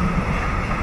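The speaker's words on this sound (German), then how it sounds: "Züge mit Autos oben drauf fahren hier rum" A brief burst of steady rolling rumble from a passing car transporter train, a low continuous rail noise with no voices.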